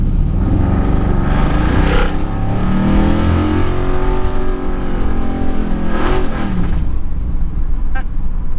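An LS-powered third-generation car on a test drive, its automatic transmission failing to downshift, the engine droning loudly and steadily with rising and falling revs and no pause between gears.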